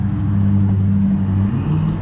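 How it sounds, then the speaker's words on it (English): A 2005 Ford Excursion Limited with a 6.0L Powerstroke diesel V8, 4WD, idling right after a cold start: a loud, steady low engine rumble with a faint whine, close and continuous. "This is a cold start for the most part."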